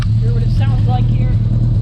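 Opel car fitted with headers and a glasspack muffler, a loud steady low exhaust rumble idling close by for a couple of seconds, with faint voices in the background.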